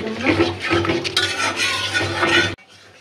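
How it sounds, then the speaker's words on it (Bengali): Spice paste sautéed for beef liver curry, with a spoon scraping and clinking against the pot over a low sizzle, close and busy, ending abruptly in near quiet. "সুন্দর করে মশলাটা কষানো হয়ে গেছে।"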